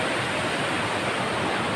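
A cold stream pours through and under rocks near a rural barangay, a dense, steady rushing of water heard close and constant with no other sounds.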